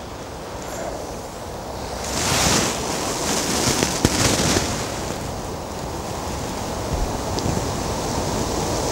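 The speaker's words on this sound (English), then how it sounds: "The wind is making presentation somewhat problematical." Wind gusting across an open fishing spot, steady broadband rush with a stronger gust swelling midway, no voices.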